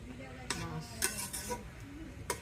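Pots and utensils clink and scrape softly while a mother cooks in the morning in a Bangladeshi village kitchen. A few quiet metallic knocks sound over low room noise, with a faint voice in the background.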